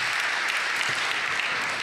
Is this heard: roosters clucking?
no